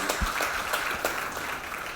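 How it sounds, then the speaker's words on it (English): A room full of people clapping for cricket team physios, dense steady applause with a few sharper individual claps standing out, close and continuous throughout. "Round of applause for the physios, guys."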